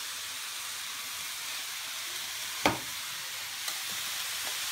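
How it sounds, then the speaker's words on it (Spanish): Vegetables with carrot fry over high heat in a pan, a steady bright sizzle and hiss running throughout, broken by one sharp clack of a utensil and a smaller tap shortly after. "vamos a freír así a fuego fuerte hasta que la zanahoria empiece a quedar más tiernita"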